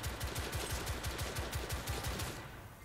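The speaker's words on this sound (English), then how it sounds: "This is a really powerful gun." A powerful gun in the video game The Order 1886 fires in a rapid automatic burst of roughly twenty evenly spaced shots, loud at first and fading slightly before cutting off.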